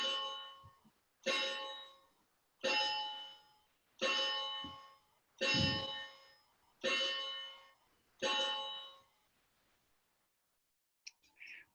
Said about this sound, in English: Here's my mindful bell.